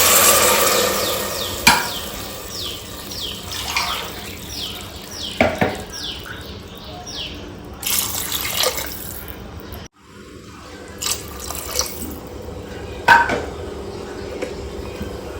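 Water is poured into a pot on a home kitchen stove for vegetable pulao, short splashing bursts amid scattered clinks and clatter of utensils, close and moderately loud, with no talking.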